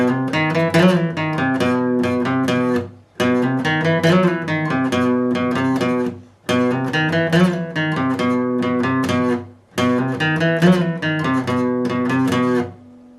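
Riff B of a song played in full as a guitar lesson example: four loud, dense strummed passages of equal length, each cut off by a brief gap, with no talking.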